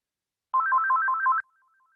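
A phone ringtone trills through a short melodic burst of repeated electronic tones, loud and close, then cuts off abruptly into quiet during a home tai chi class.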